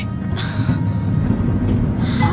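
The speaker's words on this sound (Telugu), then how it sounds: "ట్రైన్ మూవ్ అవుతుంది" A train starts to move, its cars creaking and wheels squealing in high tones over a low rumbling roll, steady and fairly close, with no speech.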